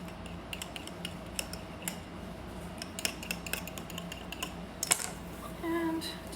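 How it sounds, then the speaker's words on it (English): A knife trimming the excess crust from a strawberry pie, heard as faint, irregular clicks and light taps against the pie dish, close but quiet with a soft background hum. "I just go around with the knife like so. And cut off the excess."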